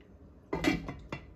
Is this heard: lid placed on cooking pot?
yes